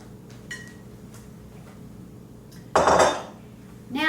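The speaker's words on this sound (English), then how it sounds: "And I want to scrape every little bit that I can" A utensil scrapes pumpkin mixture out of a bowl into a baking dish, giving faint scraping and small clinks, then a sudden loud clattering scrape near the end, followed by another knock against the dish.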